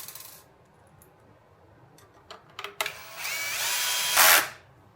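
Two screws driven with a power driver into the front bumper of a Floatwheel Atom electric board, heard as short whirring bursts, then a louder sustained drill whine near the end, close and unaccompanied by talk.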